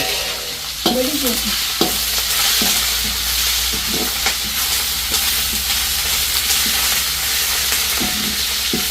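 Steady hiss and sizzle of garlic frying in hot oil, with occasional stirring clinks and scrapes, close and continuous, in a Jaffna village kitchen.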